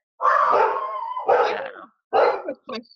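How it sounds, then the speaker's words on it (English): An excited dog in a house basement gives several near, loud bursts of whining, howling barks separated by short pauses. "My dog got excited."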